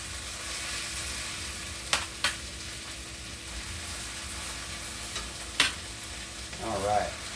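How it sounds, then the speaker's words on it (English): Beef sizzles with onions and garlic in a pan for birria, a steady close frying hiss broken by a few sharp scrapes and clatters of a utensil as pieces are pushed in. "that's when I'm going to go ahead and start popping in the rest of my beef again"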